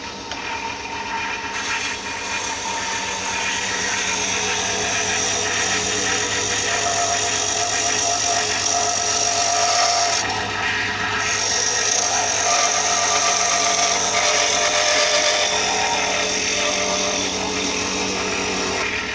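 A wood lathe spins steadily as the tool pares down a thin layer of wood over brass pen tubes, giving a continuous loud whirring hum with a scraping cut that changes briefly midway and carries on throughout.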